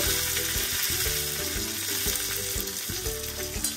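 Fenugreek seeds, curry leaves and asafoetida tempering in hot oil for kadhi, giving a loud, steady close-up sizzle and crackle that runs unbroken with no talk.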